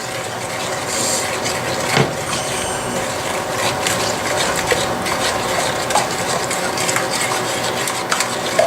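A spoon stirs and breaks up chocolate oatmeal cookie mixture in a pot over medium heat, producing continuous loud scraping and clattering with rhythmic knocks against the sides, no speech.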